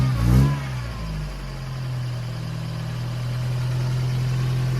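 A 1987 Toyota 4Runner engine idles in reverse, with a brief rev and a short squeal at the start before settling into a steady low rumble that swells slightly toward the end, close and with no talking.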